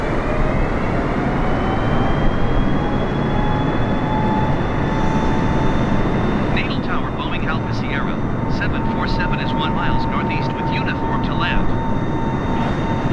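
Airplane engine drone in Microsoft Flight Simulator, a steady loud broadband roar with faint tonal whines, heard during stormy flight over open sea while someone talks over it.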